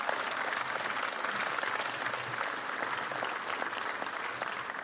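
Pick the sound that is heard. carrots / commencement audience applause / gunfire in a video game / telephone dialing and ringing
commencement audience applause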